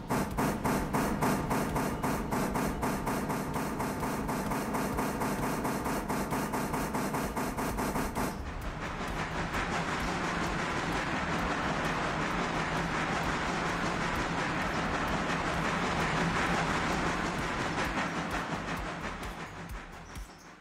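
In a railroad video game, a whole train reverses up a steep incline with a loud, continuous rumble and metallic clatter that shifts abruptly partway through, with no talking.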